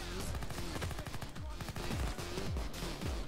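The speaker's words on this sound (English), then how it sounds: "lot of snipers out there. Oh, I can hear a sniper." Gunfire in the video game Payday 2 crackles in rapid bursts of shots, loud and dense throughout, with sniper fire in the mix.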